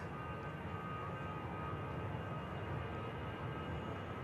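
An easyJet airliner departs Manchester Airport bound for Copenhagen, its engines giving a steady, broad roar that holds level throughout, fairly distant, with no talk over it.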